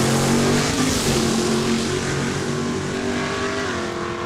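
Drag racing cars, a Mustang and a Charger, roar at a loud, steady pitch at Saskatchewan International Raceway in Saskatoon, a continuous engine wail with no talk.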